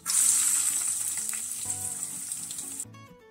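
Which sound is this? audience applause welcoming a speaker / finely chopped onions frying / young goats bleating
finely chopped onions frying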